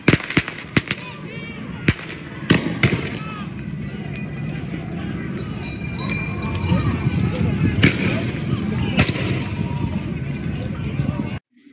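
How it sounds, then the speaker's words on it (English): Police fire rubber bullets and tear gas at a street protest in Los Angeles, sending sharp sporadic bangs and pops over crowd noise while a person talks. "Those were rubber bullets."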